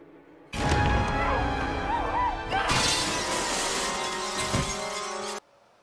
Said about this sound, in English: The glass actually shattered before she went through it!